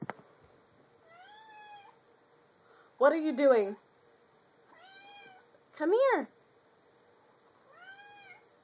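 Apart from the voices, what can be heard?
cat meowing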